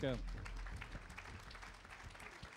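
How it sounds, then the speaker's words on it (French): A crowd at an awards ceremony breaks into applause for five winners, steady clapping that continues throughout after a brief voice at the start. "On les applaudit tous les 5."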